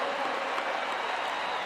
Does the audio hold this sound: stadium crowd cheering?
yes